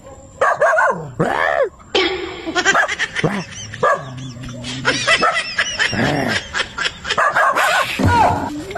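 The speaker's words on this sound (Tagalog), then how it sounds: "Ayun ito ng aso. Lag ako, iingay eh." A dog barks repeatedly and excitedly nearby, with yips and whimpering cries mixed among the barks in an irregular burst.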